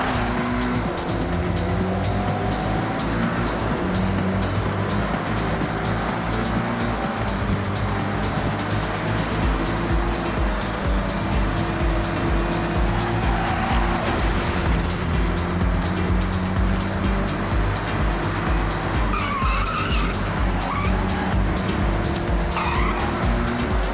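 A Toyota GT86 drives in the Forza Horizon racing game, its engine droning steadily with tire squeal and skidding layered over a dense, continuous road roar, loud and unbroken throughout.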